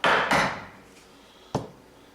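Meat mallet striking beef on a board, two quick close heavy thuds in succession, then a pause and a third sharper knock.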